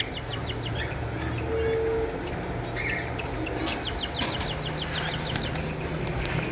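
Small caged parrots, cockatiels and lovebirds kept as breeder pairs, give rapid repeated chirps and tweets, fairly close, over steady background hum and noise.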